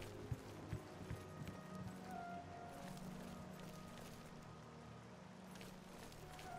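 Horse hooves clop in The Elder Scrolls IV: Oblivion, a few faint, scattered footfalls at the start over a steady, noisy background.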